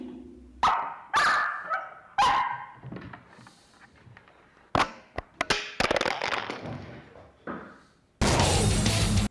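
A Boston Terrier barks in a string of sharp, loud, close barks at irregular intervals, followed by a burst of noisy rustling near the end.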